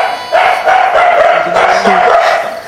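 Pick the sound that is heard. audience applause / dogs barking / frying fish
dogs barking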